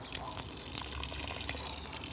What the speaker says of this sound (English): When you put in a new plant anywhere, you want to water it in a lot.